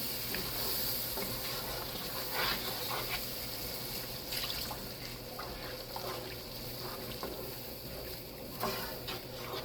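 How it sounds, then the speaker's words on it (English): Crabs boil in a pot of water, giving a steady bubbling, sizzling texture with scattered small pops and clinks, heard close and alone without talking. "My crabs is in the pot. And they boiling away."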